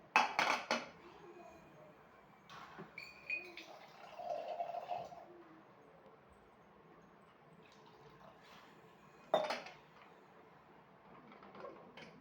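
A pressure cooker lid is set down and locked in a home kitchen during idli sambar preparation, a few sharp metallic clanks near the start and again later, with quieter rattling and scraping between and no speech.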